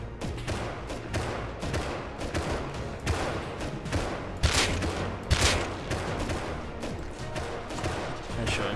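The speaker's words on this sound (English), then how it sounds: "I shot him twice." Rapid gunfire from the survival video game Rust, a busy exchange of shots with several sharp louder cracks standing out over continuous weapon noise.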